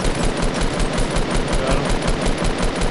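Rapid automatic gunfire from a Fortnite match on PS4 Pro, a dense continuous burst of shots lasting the whole stretch, loud and close with no talking.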